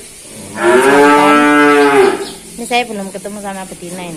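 A black cow, somewhat thin, lows in a long, loud drawn-out moo at a cattle pen during bathing, with Simmental cattle nearby, followed by someone speaking close by.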